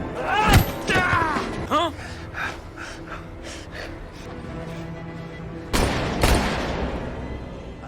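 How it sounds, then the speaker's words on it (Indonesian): Gunshots ring out in an action film, with a sharp burst early on and another loud volley near the end, set against tense background sound and breathing. "Samson langsung tertawa karena ia yakin tembakan itu adalah tembakan anak buahnya yang telah menghabisi Mercer"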